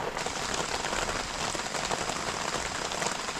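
Steady rain pouring down, a dense continuous hiss of drops striking a surface, loud and even throughout with no voices.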